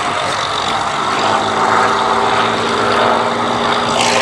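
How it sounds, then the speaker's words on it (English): A loud, steady Rolls-Royce Kestrel supercharged V12 piston aircraft engine roars throughout at an air show, a deep droning hum with buzzing overtones, sustained and close with no talking. "The noise of the Rolls-Royce Kestrel 2S supercharged V12 piston engine."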